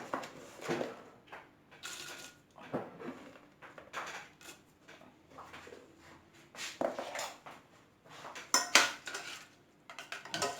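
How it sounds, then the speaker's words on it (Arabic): Almonds tumble into melted chocolate in a pot, with a series of close clinks, scrapes and knocks of a utensil against the pan coming in irregular bursts, separated by brief quiet gaps. "غادي ناخذ هاد اللوز ايفيلي هكا، غادي نرميه في الشكلاط"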